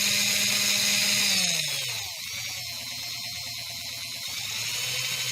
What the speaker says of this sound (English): It's going to spin. And the motor's got some power to it.